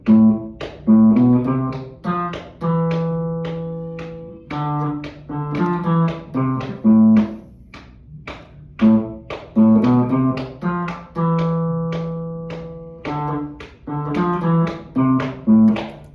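A guitar without a capo plays a bass line, a plucked, rhythmic line of low notes with short repeated phrases and brief pauses, alone and close.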